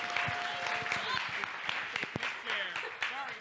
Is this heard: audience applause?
yes